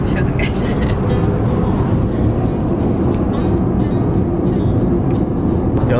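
Steady car road noise and engine rumble while driving through flat green Dutch countryside about an hour outside Amsterdam, a loud continuous drone with occasional faint voices in the background.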